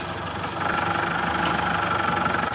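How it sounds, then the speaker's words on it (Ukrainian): A Solis 26 mini tractor in a new 24-horsepower configuration runs steadily as it drives in, a continuous mid-range engine drone that swells slightly louder after the first half second and stays even, with no talk. "Перші 26 соліс на 24 коника нової комплектації заходять."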